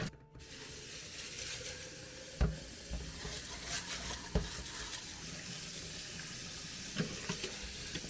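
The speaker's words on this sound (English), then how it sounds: "tip the dirty water out." Dirty water splashing and pouring out of a glass vase water garden, with a few clunks and knocks of glass, fairly close and without talk.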